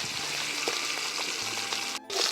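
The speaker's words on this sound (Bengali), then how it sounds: "নুন হলুদ মাখানি এই মাছটা এই যে ভাজি নেব" Fish rubbed with salt and turmeric fries in hot oil, giving a steady, close sizzle with small crackles and one brief dip near the end.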